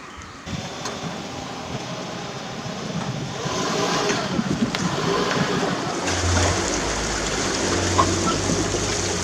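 A vehicle backs a homemade pontoon boat's trailer down a ramp to the water, its engine rising in a low rumble and steady idle amid lapping water and outdoor background noise.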